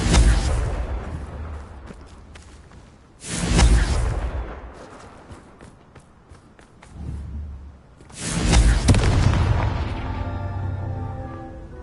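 Two booming blasts of the Confringo spell in Hogwarts Legacy, each a loud burst that rolls off into a long rumbling tail, with a quieter whooshing swell between them.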